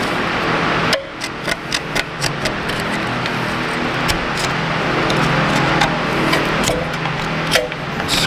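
Rust is scraped from a car's brake caliper with a caliper file: a steady, close, gritty scraping with sharp metallic ticks and knocks scattered throughout, no voices.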